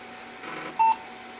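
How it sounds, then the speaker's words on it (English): A single short, clean electronic beep sounds from a newly assembled AMD Sempron computer at power-on, brief and moderately loud over a quiet hum of fans. "But we got a post beep."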